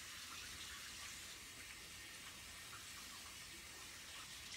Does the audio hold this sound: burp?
no